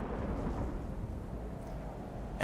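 Steady rumbling thunderstorm with rain ambience in the strategy game Total War: Warhammer II, a continuous loud broadband roar filling the whole clip with no clear individual thunderclaps.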